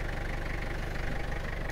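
A 400,000-kilometre Toyota Hiace double cab with a non-turbo diesel engine idles steadily, a low, even rumble with a faint knocking rhythm running throughout, close and alone.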